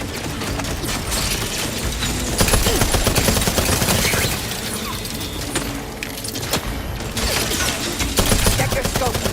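Sustained gunfire in The Outer Worlds 2 rattles on in dense, rapid bursts with crashing impacts, loud and continuous through the whole stretch.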